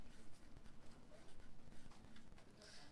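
Marker or chalk writing on a board during a math lesson on transforming functions, quiet scratchy strokes in short uneven bursts, close and faint.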